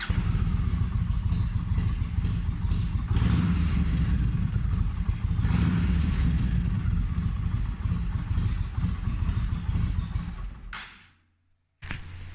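A Yamaha Road Star Silverado motorcycle engine runs steadily and loudly up close with a deep rumbling idle, then cuts out briefly near the end before starting again.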